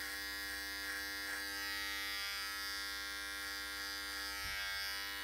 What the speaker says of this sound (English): I'm going to use my adjustable clipper.